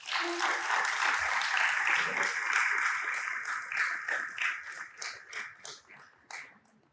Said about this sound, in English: Give her a round of applause as she waves